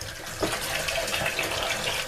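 Tap water runs steadily into a sink to rinse thawed oxtails for a Jamaican-style stew, a close, continuous splashing gush with no talking.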